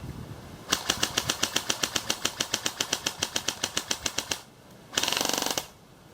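A Lonex Titan A1 airsoft gun fitted with an M130 spring fires a fast, even full-auto string of sharp clacking shots for nearly four seconds, then after a brief pause rips off a shorter, denser burst, close and loud.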